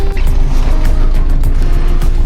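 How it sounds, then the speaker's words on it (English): A boat engine idles steadily at anchor as it warms up, a continuous low mechanical drone with a faint tonal hum and light rattles, fairly loud and close with no voices over it. "I'm just gonna let this engine warm up a bit"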